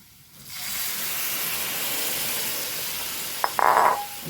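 Liquid poured into a hot pan while cooking kadala fry sets off a sudden loud steamy hiss that holds steady, with a brief bubbling, rattling flare near the end.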